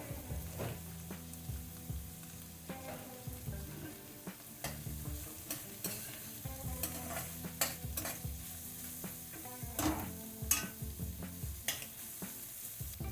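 Peas and brown top millet upma roast and sizzle in a pan, a steady low frying hiss broken by repeated scraping stirs and clinks of the spoon, close and fairly quiet, with no talk.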